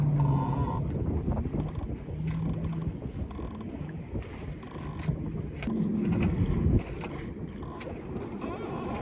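Steady wind buffeting the microphone aboard a sailboat under sail, 6-knot breeze, with broadband rushing and low rumble throughout, swelling louder around the middle, and faint boat creaks.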